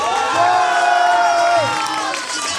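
A convocation crowd cheers loudly, with whoops and high shouts rising over a dense wall of voices and some clapping. The sound is sustained and close, then eases slightly near the end.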